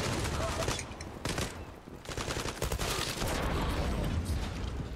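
Rapid gunfire bursts in the online first-person shooter Zula, loud bursts of automatic shots broken by short pauses, with game noise around them.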